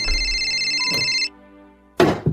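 An incoming call rings on a mobile phone, a loud close electronic ringtone that plays, pauses briefly and stops abruptly, followed by a sudden thump as something is handled or dropped.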